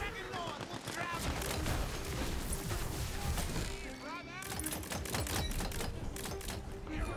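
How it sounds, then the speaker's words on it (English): Rapid gunfire crackles in the looter-shooter game Tiny Tina's Wonderlands, fast repeated shots with chirpy whooshing effects layered on top, while someone talks over the shooting. "Shooting at this guy right next to me"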